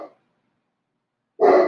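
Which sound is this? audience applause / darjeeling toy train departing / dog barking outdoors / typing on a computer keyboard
dog barking outdoors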